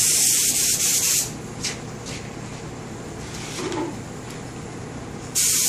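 A spray gun sprays lacquer onto an oak rocking chair being refinished, a steady hiss throughout, with louder sharper bursts at the very start and end, nearby and continuous.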